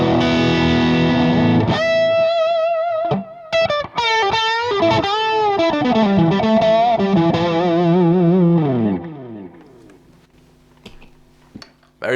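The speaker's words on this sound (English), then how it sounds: "So, I'll start off with the Ibanez tube screamer," Electric guitar through an Ibanez Tube Screamer into a Marshall amp plays overdriven chords and bending lead phrases, loud and continuous, then fades to a quiet tail.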